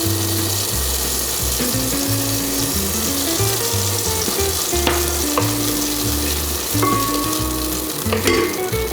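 Tomatoes sauté in garlic-infused olive oil with a loud, continuous sizzle and occasional stirring scrapes, the frying steady and close throughout.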